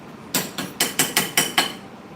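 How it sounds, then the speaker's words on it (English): Ginger is pounded in a mortar: seven evenly spaced, sharp, solid thuds come close and fairly loud, with brief quiet before and after and no speech. "I will do the grating for the ginger, and then I'll go ahead to pound the remaining."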